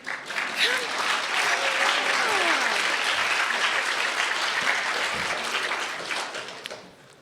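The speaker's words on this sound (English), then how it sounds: "Go ahead, you can applaud, that's fine." Audience applause at a public conversation about gender violence at the University of Virginia, a dense, continuous clapping from a large room that swells, holds steady, then fades out, with a few voices mixed in.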